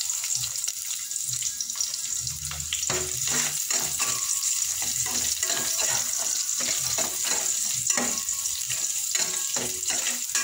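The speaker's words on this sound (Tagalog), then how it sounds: "pagsasabay ko na yung bawang at saka sibuyas" Garlic and onion sauté in a pan for a kalderetang rojo, with a continuous hissing sizzle broken by regular spatula scrapes and taps against the pan, close and moderately loud.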